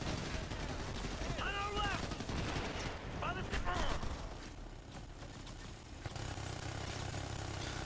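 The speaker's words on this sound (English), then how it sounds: "we're just destroying some choppers with a machine gun." Loud, dense machine-gun fire rattles on continuously, with whining electronic sweeps mixed into the noisy barrage of a battle in Ghost Recon Future Soldier, shooting down helicopters.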